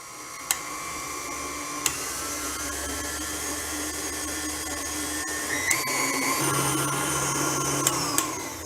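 An electric mixer beats a chocolate filling, a steady continuous motor whir that shifts pitch partway through as the speed changes from low toward high, with a few sharp ticks of the beaters against the bowl.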